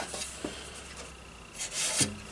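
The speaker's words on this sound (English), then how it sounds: "So I'm going to put the next coat of polish on it" Cloth rubbing polish onto the wooden cabinet of a vintage Motorola Model A12N radio, heard as soft, close rasping strokes at an uneven pace, building to a louder sweep near the end.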